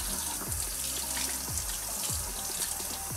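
Brined trout fillets are rinsed under a cold running tap, giving a steady splashing gush of water into a sink with occasional lower sloshes as the fish move, close by and continuous.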